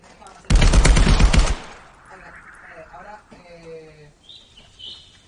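A short burst of rapid gunfire from the VR shooter game Contractors rattles loudly for about a second, followed by quieter game ambience with faint chirps and distant tones.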